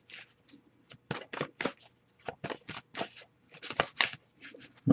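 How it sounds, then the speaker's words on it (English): Tarot cards are shuffled close by in uneven papery bursts, quick riffles and slides broken by brief pauses, with no talking over them. "I will give it a few more shuffles before I move on"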